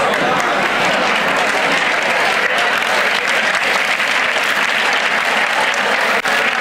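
Audience at a student induction session claps loudly and steadily for several seconds, a dense continuous wash of many hands without a clear counted rhythm.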